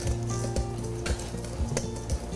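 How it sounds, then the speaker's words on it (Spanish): Cornstarch mixed with garlic salt and onion salt is stirred in a container, a busy scraping, swishing stir with light knocks, close and steady, over a constant kitchen background hum. "Vamos a agarrar nuestra sal de ajo, sal de cebolla. Vamos a revolverlo."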